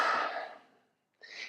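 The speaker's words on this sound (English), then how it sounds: "you take a few breaths, deep breaths" A person takes deep breaths: one long, close exhale that trails into silence, followed by the start of another breath.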